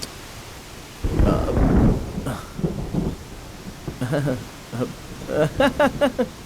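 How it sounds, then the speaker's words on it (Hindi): Thunder rumbles through a broad, rising wash of noise as rain approaches outdoors, with people talking over the storm sound in short bursts. "अरे, बारिश होने वाली है।"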